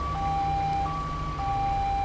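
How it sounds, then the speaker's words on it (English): Ambulance siren in the GTA 5 video game, two alternating steady tones switching back and forth over a constant low rumble of engine and traffic, fairly loud with no talk. "But we got the ambulance here as well."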